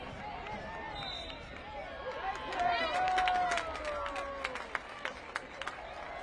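Stadium crowd at Riverfront Stadium during a Tampa Bay Sun FC vs Dallas Trinity FC women's soccer match, a broad steady roar of cheering with scattered sharp claps rising midway, heard from the broadcast position with commentary voices over it.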